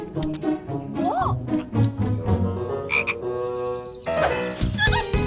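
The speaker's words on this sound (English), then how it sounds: "There's a frog in my trousers!" A cartoon frog croaking loudly in a children's animated comedy, with several deep, rolling croaks close by and shifting pitch, and other sound effects near the end.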